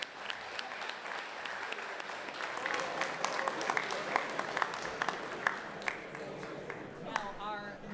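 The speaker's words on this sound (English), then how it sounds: "let's give them one more round of applause." An audience at an awards evening claps steadily, a dense wash of applause with a few cheers rising over it, then fading near the end.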